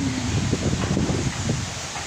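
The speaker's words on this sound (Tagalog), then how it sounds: "Masarap na mga puno. Galaw-galaw pa sila sa hangin." Leaves rustle in a steady breeze, a soft continuous hiss with a few brief louder stirrings, fairly close and without voices.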